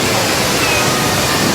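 The indoor waterfall at Changi Airport in Singapore roars in a loud, steady, even rush of falling water, filling the space.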